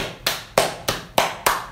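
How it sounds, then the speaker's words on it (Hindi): Five sharp, loud hand claps spaced evenly about a third of a second apart, each with a short ringing decay, close and isolated with no talk. "ताली बजाओ."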